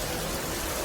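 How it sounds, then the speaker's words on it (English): Heavy summer rain pours down in a steady, dense hiss over a British high street, loud and unbroken with no voices. "it's tipping with rain."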